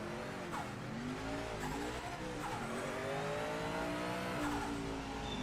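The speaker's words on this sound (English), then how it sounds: "Well, you're getting the turbo noises." Race car engine and turbo noise from the Project Motor Racing video game, a steady droning whine with shifting pitch and faint tyre squeal, continuous and without talk.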